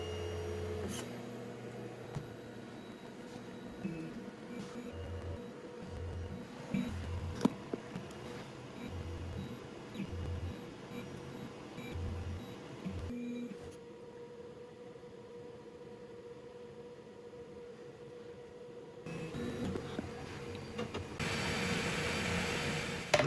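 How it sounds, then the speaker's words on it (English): A Dremel 3D45 3D printer auto-calibrates and preheats, giving a steady motor hum with rhythmic stepping pulses that drop to a quieter whir midway before a louder fan-like rush at the end. "It begins copying the file to the hard drive, and then begins the auto calibrating and preheating process."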